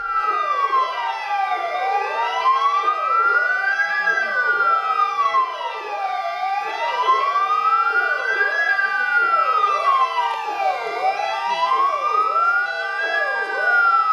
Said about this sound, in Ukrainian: проводжали за традицією під звуки сирен, пожежних автівок